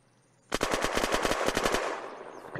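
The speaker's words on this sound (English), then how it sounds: "Who is shooting?" Rapid automatic gunfire from the video game Unturned, a burst of about a dozen sharp shots in quick rhythm lasting over a second, loud and close, trailing off into a faint tail.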